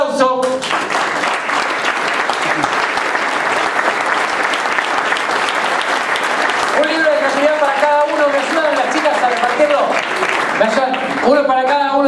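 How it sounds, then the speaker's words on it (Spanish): An audience at a talk breaks into strong, sustained applause, loud and continuous for most of the stretch, with a speaker's voice rising over the clapping in the later part. "Fuerte aplauso."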